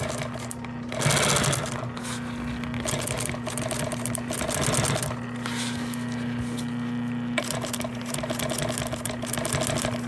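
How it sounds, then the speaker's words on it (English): Sewing machine stitching an automotive door panel along the edge that sits under a chrome strip, running steadily and close up for about ten seconds with a continuous rapid mechanical chatter and a brief pause near the end. "we've got them all set up here in the sewing machine"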